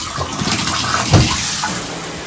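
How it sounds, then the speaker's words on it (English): A Canopy handheld filtered showerhead sprays a steady, hissing stream of water in a bathroom, with a brief louder gush partway through. "I'm going to turn the shower head on. And again, show you the water pressure."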